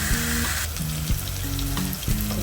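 Masala frying in oil for moong dal, a loud, dense, continuous sizzle close by, with a few brief knocks and scrapes of stirring underneath, no voices.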